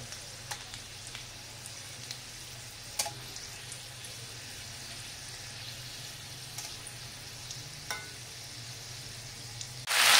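Lal saag greens frying in a pan sizzle steadily and closely, a continuous hiss broken by a few soft stirring clicks and taps, with a louder clatter at the very end.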